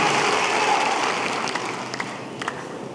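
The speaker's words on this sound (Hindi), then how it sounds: "मैं एक बार क्या आपकी तालियां सुन सकता हूं?" Applause from a live audience at a Hindi motivational speech; a dense patter of clapping, fairly loud at first, thins and fades over a few seconds, leaving a few scattered louder claps.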